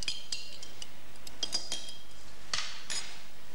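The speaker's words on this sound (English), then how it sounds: "Next, they tested instant coffee. One more stir, I think, would do it." A metal spoon clinks against the inside of a glass while stirring instant coffee, giving a few sharp, bright taps spread unevenly across a quiet background.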